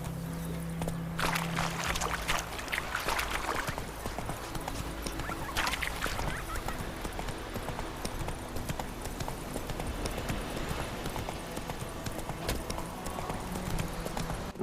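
Roach, a horse in The Witcher 3, trotting with steady clip-clop hoofbeats at a regular rhythm, close and clear over a quiet game backdrop, with a few louder thumps along the way.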